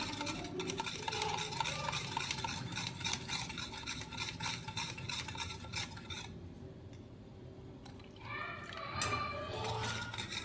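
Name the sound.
stirring custard mixture with cold milk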